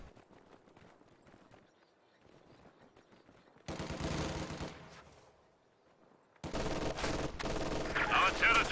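Game battle audio from Company of Heroes 2 with an MG42 machine gun firing from a garrison, heard as bursts of rapid gunfire that grow louder and denser toward the end, with quieter distant shots earlier.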